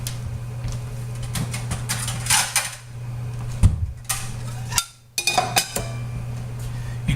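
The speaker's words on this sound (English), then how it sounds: "I'm going to grab 2 plates real quick." Ceramic plates clink and clatter against each other as they are handled, in a few separate bursts over a steady low appliance hum.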